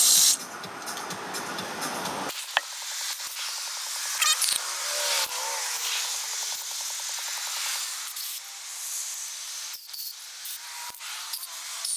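Carburetor cleaner sprays in a steady loud hiss onto the carburetor of an 8hp Mercury outboard engine, with brief clicks and rattles breaking the continuous spray.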